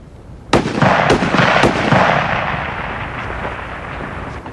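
Three sharp rifle shots crack out in quick succession at a 600-yard target range, each loud and close, with a long rolling echo that slowly fades after the last shot.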